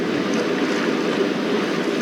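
Rushing water and spray from a river crossing by kayak on the Green River, a steady full-bodied wash that stays loud and even throughout, with no voices.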